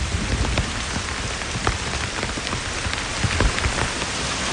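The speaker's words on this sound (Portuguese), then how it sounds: "Quando as nuvens se amontoam contra as montanhas andinas, ocorrem grandes chuvadas" Heavy rain pours down in the Andes mountains, a dense, steady hiss of drops striking surfaces that stays loud and unbroken throughout, with no voices.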